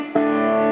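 A sustained, driven electric guitar chord through small tube amps pushed into mild distortion, struck once and ringing on steadily with a buzzing, compressed tone.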